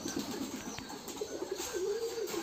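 Large King pigeons cooing at a pigeon farm, a continuous low rolling coo that wavers and swells, nearby and moderately loud, with several overlapping birds and faint farm background.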